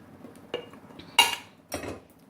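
A few clinks and scrapes of a spoon against a bowl while besan batter with spices and oil is mixed, spaced unevenly and close, with a brighter knock near the middle, no talking.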